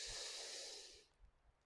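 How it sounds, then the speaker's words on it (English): A deep breath ends in a long, audible, breathy exhale like a sigh of relief, close and soft, fading into quiet with faint rustles. "Little bit of noise on the exhale."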